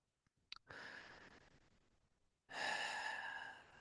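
A person breathes normally after a breathing exercise for back pain: after a few small clicks comes a long, soft exhale that fades, then a louder, close, airy breath that also trails off, with no talk.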